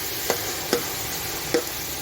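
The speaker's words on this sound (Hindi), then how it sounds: "इन दोनों को 2 मिनट प्याज के साथ अच्छी तरह फ्राई कर लीजिए।" Onions and ginger frying in a pan for chana pulao, a quiet continuous sizzle with three light spoon scrapes stirring them.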